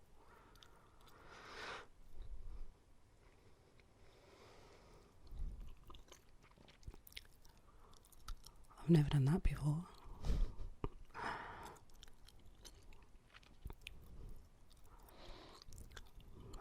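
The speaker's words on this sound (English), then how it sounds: "Okay, so now my gum is ready. I'm going to do some chewing sounds" Gum chewing captured on a binaural microphone, intermittent moist smacks and squishes close to the ear, interleaved with soft talking and breaths.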